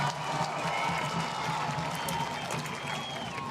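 A stadium crowd in Chattanooga, Tennessee cheers a penalty shootout goal in a soccer match, a sustained roar with some applause at moderate distance.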